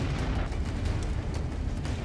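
An FPV drone strike on an armored personnel carrier sets off a large explosion, heard as a dense, sustained low rumble with crackling bursts, steady and somewhat muffled, without speech.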